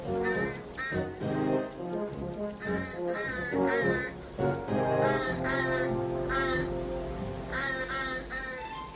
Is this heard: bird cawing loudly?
yes